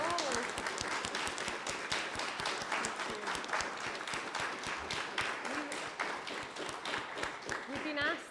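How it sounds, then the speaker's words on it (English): A crowd applauds the speakers at a climate event at an arts centre, a steady dense patter of many hands lasting several seconds, with a few voices faintly audible underneath. "can we just give a huge round of applause, please, to all of our fantastic speakers?"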